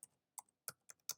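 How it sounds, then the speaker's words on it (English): Five separate key presses on a computer keyboard, each a crisp close click spaced evenly apart in an otherwise quiet room, with no talking. "So I'm going to type in the"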